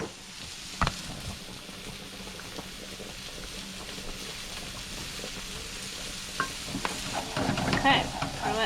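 Steak fajitas sizzle steadily in a hot pan while being stirred, a continuous frying hiss with scraping and clinks of a utensil near the end.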